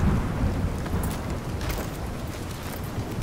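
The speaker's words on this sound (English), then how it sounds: "Oh, there's a storm." Thunderstorm in the video game The Division 2, set in New York: steady heavy rain roars close and loud throughout, with rumbling thunder swelling underneath across the whole stretch.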